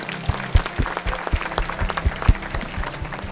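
Students at a Republic Day flag-hoisting gathering at CIMAGE Patna clap loudly for themselves, a burst of scattered, uneven claps with heavy low thumps standing close.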